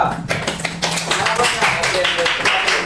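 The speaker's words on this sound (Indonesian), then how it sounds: "diberikan aplaus kepada kelompok 2" A classroom group of students applauds, a dense burst of hand claps that carries on steadily with voices mixed in.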